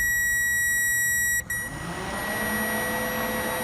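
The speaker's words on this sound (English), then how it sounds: "Press the switch. You hear that beeping? That means it's sending power." A steady high electronic beep from a circuit tester checking power to a 2003-2007 Honda Accord radiator condenser fan sounds for over a second, then cuts off, leaving a low background hum.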